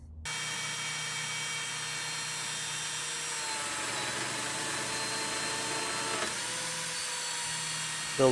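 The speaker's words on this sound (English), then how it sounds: "The lamello joiner is pretty sweet. It's basically a biscuit joiner, but it cuts this groove in the back of the slot" A Lamello biscuit-style joiner cuts slots into maple shelf boards, its motor giving a steady, close, high whine with a faint shift partway through, running alone without voices.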